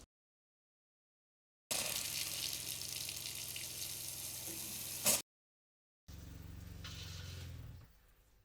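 An RV faucet runs during winterizing: a steady, close gush of flowing water for about three seconds, then silence, then a second run of water that fades out.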